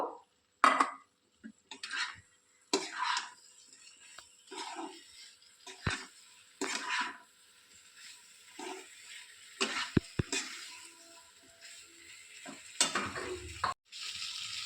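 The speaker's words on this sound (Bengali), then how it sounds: "এবার আমি পটলগুলো আর চিংড়ি মাছটা দিয়ে একটু ভালো করে কষিয়ে নেব" Pointed gourd and prawns stir-fried in a pan, with intermittent sizzling bursts and scraping stirs between quieter stretches, close and moderately loud.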